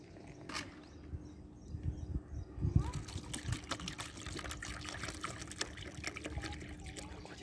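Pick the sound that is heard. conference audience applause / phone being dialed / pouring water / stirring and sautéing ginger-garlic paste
pouring water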